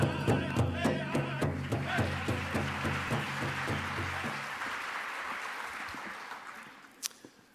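Audience at the ACM ICPC World Finals 2017 opening ceremony applauding after a stage performance, a steady rhythmic clapping that gradually thins and fades out, with a few isolated claps at the end.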